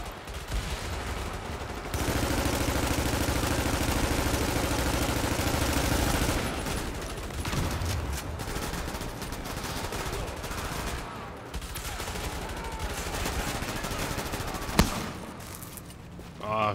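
Sustained automatic gunfire from the player's weapon in The Division video game: a long, loud, continuous burst of rapid shots, then more intermittent firing and a sharp hit near the end.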